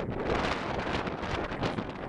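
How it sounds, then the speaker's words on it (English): Strong wind buffets the microphone on a warm canyon hike, a constant roaring rumble with gusty swells and no voices. "You can hear me with all the wind."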